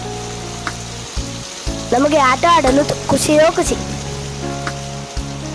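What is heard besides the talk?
heavy rain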